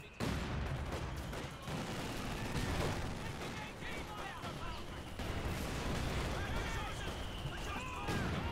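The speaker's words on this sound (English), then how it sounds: "That's a fucking great mortar hit." Battle in Company of Heroes 2 with mortar shells and gunfire, a dense stretch of loud blasts, crackling shots and rumbling impacts that continues throughout, with faint talk underneath.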